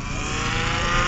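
A custom-built V12 land speed record car with a plate-fabricated engine block revs hard and shifts in one brief, continuous, loud burst of engine roar.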